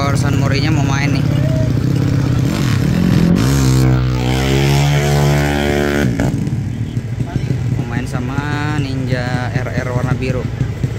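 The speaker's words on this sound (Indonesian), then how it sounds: "Tadi gua dapat info ini motor San Morinya mau main nih" A racing motorcycle built from a Kawasaki Ninja revs at a track event, its engine note rising and falling in sweeping tones with a long sustained rev in the middle, loud and close under crowd noise and talk.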